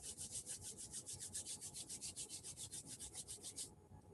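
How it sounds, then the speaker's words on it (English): Palms rubbing briskly together during a tai chi warm-up, a steady back-and-forth swishing with about two strokes per second, close and fairly loud, with no talking, stopping abruptly near the end. "So, rubbing your hands together,"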